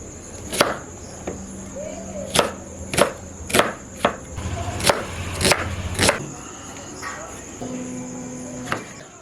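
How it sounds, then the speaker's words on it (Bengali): A knife chops onion and tomato on a board in a home kitchen, about a dozen sharp, close thuds in an irregular rhythm with short pauses, a faint tone and soft background noise between strokes. "ততক্ষণ পেঁয়াজ আর টমেটোটা কেটে নেব"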